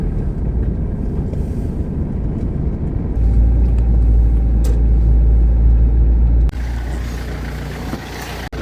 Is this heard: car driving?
yes